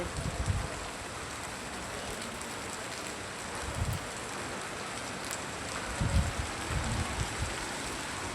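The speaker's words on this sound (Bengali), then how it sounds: "অসাধারণ রিমঝিম বৃষ্টি" Steady patter of light rain falling on plants and a garden, with a soft continuous hiss and occasional heavier bursts of drops, no voices.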